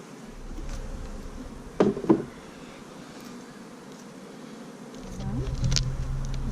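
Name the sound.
bees buzzing during a beehive inspection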